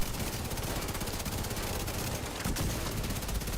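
Continuous rapid gunfire in a video game as players shoot down quadcopters, a dense, steady automatic-weapon rattle throughout with a slightly louder burst near the end.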